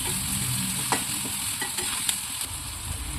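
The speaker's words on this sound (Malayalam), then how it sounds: "ഈ എണ്ണയിലേക്ക് തന്നെ നമ്മൾ കട്ട് ചെയ്ത് വെച്ചിരിക്കുന്ന ചെറിയ ഉള്ളിയും കൂടെ ഇട്ട് കൊടുക്കാം. ഇതും നമുക്ക് നല്ലതുപോലെ മൂപ്പിച്ചെടുക്കണം." Chopped small onions fry in hot oil for a Kerala-style ginger pickle, a continuous close sizzle broken by the scrape and clink of a spoon stirring the pan every second or so.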